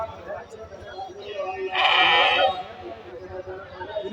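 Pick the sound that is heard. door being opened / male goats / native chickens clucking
male goats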